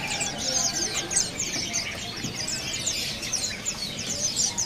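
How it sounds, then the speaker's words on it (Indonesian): A female cicak biru leafbird calls within a lively chorus of caged shop birds, quick high chirps and whistled phrases tumbling over one another without pause at moderate loudness. "Di sini ada burung cicak biru betina"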